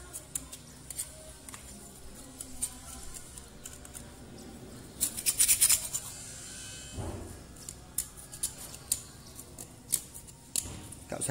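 Old teeth being scraped clean from an air compressor part with a hand tool: close, scratchy scraping strokes in irregular bursts, with a denser rasping stretch partway through.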